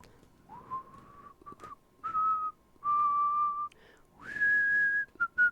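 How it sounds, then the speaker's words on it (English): Someone whistles a slow tune nearby at a comedy show, a few sustained notes separated by short pauses, clear and alone in a quiet space. "I almost whistled happy birthday."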